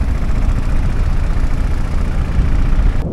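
A boat engine drones steadily and loudly as the boat travels across Tanguar Haor, a continuous close low rumble without breaks and with no speech over it.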